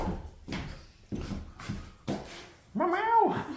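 A pet cat named Mish Mish meowing indoors, a clear drawn-out meow near the end after several short knocking or shuffling sounds, close by with no speech.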